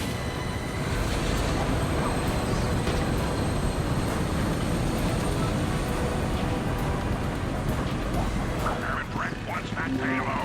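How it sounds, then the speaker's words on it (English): A departing train in the Ratchet & Clank video game makes a steady broadband rumble with rail clatter and a faint high squeal, all continuous at an even level, and a voice speaks over it. "The A train is now departing."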